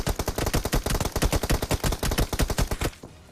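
Rapid automatic gunfire from a video game fires in a tight, continuous string of loud bursts for about three seconds, then cuts off abruptly.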